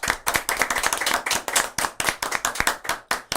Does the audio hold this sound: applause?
yes